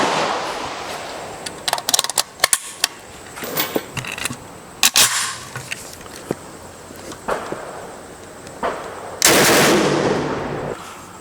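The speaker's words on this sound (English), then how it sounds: "let's run the final 2 rounds of the day" Last rounds from a 1994 Ruger Mini 30 rifle with light primer strikes: a series of sharp, loud gunshots spaced irregularly, each with a short echoing tail, and a final longer burst of noise near the end.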